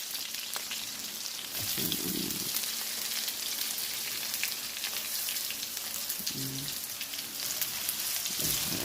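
Onion, garlic and ginger fry in a pan for chicken curry with a steady crackling sizzle like rain on a surface. A few louder knocks and scrapes of stirring break through now and then.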